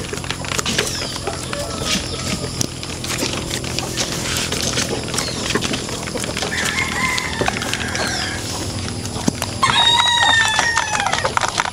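Pet chickens and roosters in a backyard poultry pen, with repeated crowing and clucking from several birds near and far, layered over steady yard noise and one loud close crow near the end.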